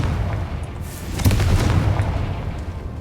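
A Confringo fire spell in the Hogwarts Legacy video game bursts into a loud, rumbling explosive blast with a crackling tail, heavy and close, with no speech over it.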